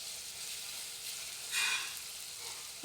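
Finely chopped onion and green chilli sauté in a pan with a soft, steady sizzle, swelling briefly into a louder hiss midway as the pieces are stirred, heard close and without speech.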